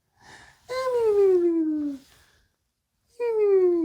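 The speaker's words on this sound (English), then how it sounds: "That's like cartoon snoring" A cartoon-style snoring sound in a song: long, whistling, wheezy tones that slide downward, with a short breathy lead-in, a drawn-out note, a pause, then another similar note starting.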